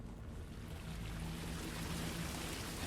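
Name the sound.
waterfall in Caves of Lore video game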